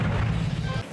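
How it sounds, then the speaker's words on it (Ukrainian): A mortar firing a single shot at a frontline trench position, a loud close blast with a heavy low boom that cuts off abruptly. "Вогонь! Постріл!"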